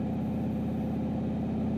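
A turbocharged Chevrolet Silverado pickup with a right-side dual-exit exhaust idles in a steady, low, even rumble, fairly quiet and close, with no voices.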